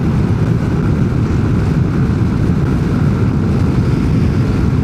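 A Yamaha NMAX Techmax 155 scooter runs at speed on a national highway, heard as a loud, steady engine drone mixed with heavy rushing wind noise on the microphone, unbroken and with no talk.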